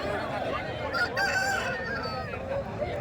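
A Kundarapalli breed rooster crows among clucking chickens, a loud drawn-out call rising over steady flock chatter and a busy market background, with faint human voices nearby.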